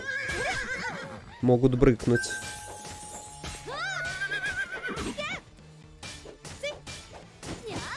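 Horses in the video game The Vagrant give several loud whinnies and neighs with a crashing impact partway through, mixed with someone talking over the sounds.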